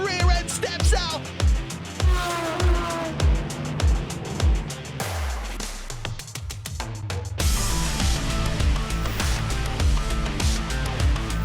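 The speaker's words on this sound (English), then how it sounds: "late on the brakes for Wilson in the Maserati" A vintage Maserati race car brakes late into a corner at the Goodwood Members' Meeting, its rear end stepping out, engine blipping and revving loudly in rhythmic pulses with other cars close by.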